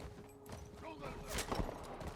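Horse hooves clatter in a quick rhythm in The Last of Us Part 1, mid-distance and growing louder toward the end, over tense game music and shouting.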